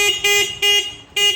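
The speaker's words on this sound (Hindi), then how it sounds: "इसका हॉर्न भी बिल्कुल परफेक्ट काम कर रहा है।" Horn on a Honda Pridor motorcycle converted to a petrol-electric hybrid, with three loud, close honks of uneven length and short gaps between them.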